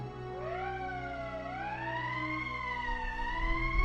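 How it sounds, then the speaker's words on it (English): An emergency siren wails in the video game Valkyria Chronicles Remastered, a loud rising and falling electronic tone that sweeps up, then holds and undulates steadily, with no voices over it. "That's the emergency siren."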